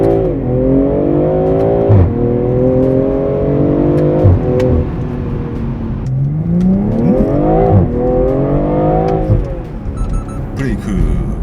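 A BMW M340i in Sport Plus mode pulls away from a standstill, its exhaust note climbing through the revs, dropping briefly at each upshift and then rising again. The car is loud and close, and there is no talk.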